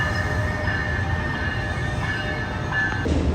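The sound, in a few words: train running on rails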